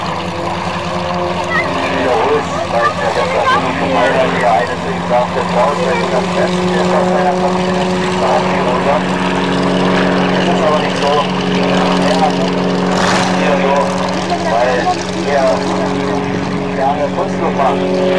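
Continuous droning hum of a propeller aircraft engine at an airfield festival in Dessau, Germany, steady and loud throughout, with someone talking over it.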